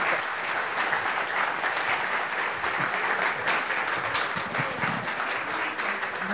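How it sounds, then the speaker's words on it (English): Congregation applauding steadily after a Sunday service at a Palm Desert church, a dense, sustained wash of many hands clapping that fills the room without pause. "They're still clapping."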